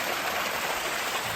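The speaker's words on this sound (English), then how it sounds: "I found this, I guess it's kind of a waterfall stream. It's cascading down." A forest stream cascades down a small waterfall beside a trail, giving a steady broadband rush of falling water, constant and moderately close, with no voices.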